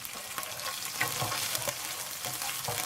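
Puttanesca sauce sizzles and fries steadily in a pan while it is stirred, a dense, continuous crackle with scraping stir sounds rising now and then, close and fairly loud with no talking.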